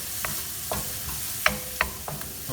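Turmeric powder sautéing in a pan for turmeric beef, with a soft steady sizzle broken by several sharp scraping clicks of a utensil stirring, fairly close and with no one talking.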